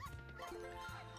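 A dog barks in an online slot game, the bark cartoonish and synthesized, ringing over a busy layer of game chimes and music.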